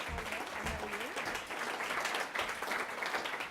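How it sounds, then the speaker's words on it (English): Audience applause in an evening talk venue, steady dense clapping from a crowd throughout, fairly even in loudness with no voices over it. "Give her a round of applause."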